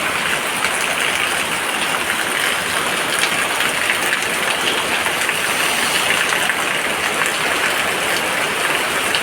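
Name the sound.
rain falling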